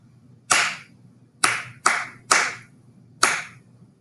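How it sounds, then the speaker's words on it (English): Five sharp, close hand claps ring out in an uneven rhythmic pattern, a pair of quick ones in the middle, each crisp and decaying quickly against a quiet background. "No words this time, just claps."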